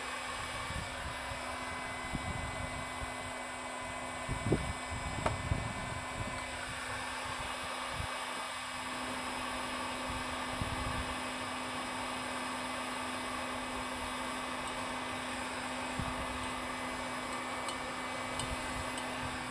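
A 47cc OBR engine runs steadily during break-in at operating temperature, a continuous close buzzing drone with a few louder bursts early on and no talk.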